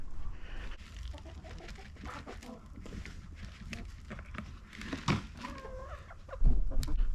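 Backyard chickens cluck softly and scratch around while feeding, with faint scattered calls and rustling in the background and a person talking nearby.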